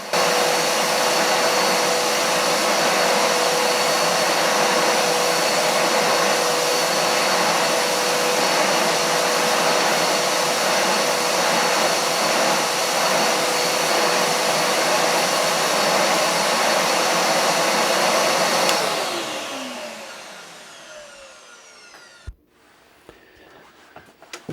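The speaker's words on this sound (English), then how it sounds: "it is a really loud vacuum cleaner." A loud Karcher WD2 wet and dry vacuum cleaner runs with a steady, high-pitched whine for a long stretch, then is switched off and winds down to quiet.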